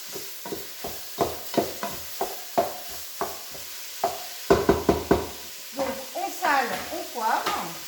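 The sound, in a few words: ground beef browning in a pan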